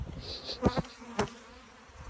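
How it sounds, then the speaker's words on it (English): Honeybees buzz around an open hive, a close, continuous hum with a few sharper passes of individual bees flying near, no talking. "These bees can be a little bit pissy."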